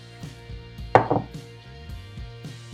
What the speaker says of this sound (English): we're gonna add everything but the raisins into the pot here. Start with the rice,